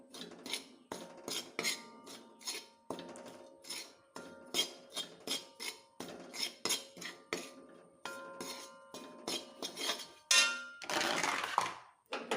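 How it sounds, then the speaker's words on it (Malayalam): Roasted spice powders and salt stirred in a pan, a steady run of quick scraping and clinking strokes of a spoon against metal, close and moderately loud, ending in a louder rough scrape. "ഇത് നന്നായി ഇളക്കാം."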